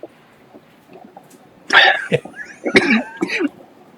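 Several harsh, close coughs come in quick bursts after a quiet start, rough and throaty, with a few short pauses between them.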